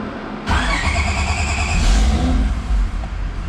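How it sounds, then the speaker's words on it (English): Supercharged J32A2 V6 in a Toyota MR2 SW20 cranks and fires, then revs up sharply and settles into a loud, rough idle nearby. "Oh, I'm about to turn on the car and I'm pretty sure I'm going to piss off the neighbors."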